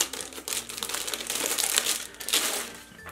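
Package from Tokyo Kawaii Club holding a Tokyo Disney store mystery mailer being opened, with close, soft crinkling and crumpling of wrapping in irregular bursts.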